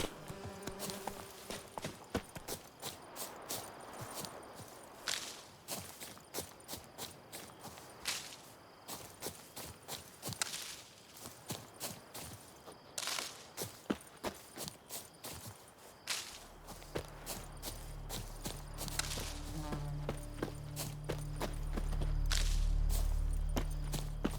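Horse hooves clip-clop in a steady, brisk rhythm while riding through White Orchard in The Witcher 3, the beat continuing throughout as a low rumbling swell builds toward the end.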